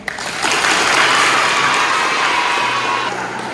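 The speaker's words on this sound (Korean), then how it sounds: "그냥 일단 박수 칠게요." A university classroom full of students claps together in a sustained burst of applause, loud and close, fading slightly toward the end.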